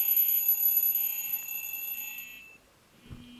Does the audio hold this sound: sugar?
no